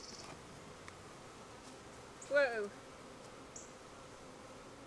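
Honey bees buzz around an open beehive as a faint, steady hum in the background, interrupted once by a short startled exclamation from a person nearby.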